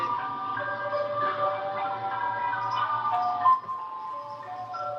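An ice cream truck jingle plays its chiming tinny melody continuously for several seconds, fairly loud and a little muffled, as if heard through a speaker, with a brief bump near the end.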